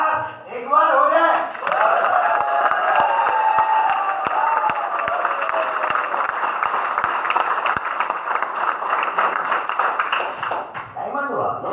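A seminar audience at a company business meeting claps together in a rhythmic, patterned group clap, the sharp claps steady and loud for about ten seconds amid crowd noise and voices.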